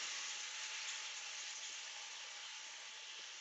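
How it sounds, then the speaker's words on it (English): Bourbon poured onto hot links with peppers and onions on a hot Big Green Egg grill sizzles in a steady, loud hiss that holds evenly throughout without pause. "Hear that sizzling."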